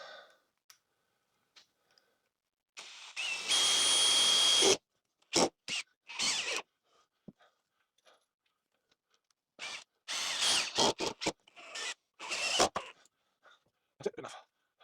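A power drill drives 80mm screws into a ceiling during a full ceiling rip-out, a steady whining burst of a couple of seconds, then shorter spurts and clicks, close and fairly loud.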